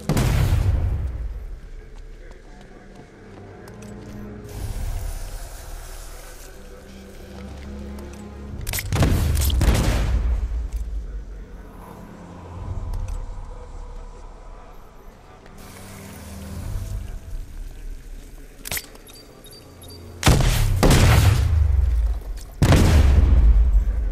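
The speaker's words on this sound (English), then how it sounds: "apply the explosive directly to destroy that wall" Explosive charges blowing apart a wall in Batman: Arkham Knight on PS5, with several loud, broad booms in separate bursts and rumbling low debris and ambience between them.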